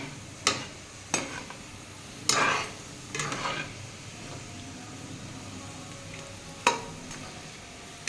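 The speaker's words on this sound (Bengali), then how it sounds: "সমানে একটু নেড়ে নেড়ে ভাজতে হবে এখনও একটু লাল হবে লাল করে ভাজতে হবে একদম" Sweet potato sweets fry quietly in oil with a faint, steady sizzle, broken by several sharp scrapes and knocks of a spatula stirring in the pan at uneven intervals.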